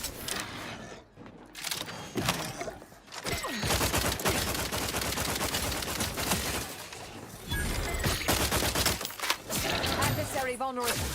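Wrist weapon fire in the video game The Outer Worlds 2, a dense, loud barrage of rapid shots and impacts running nearly continuously, with brief lulls between volleys.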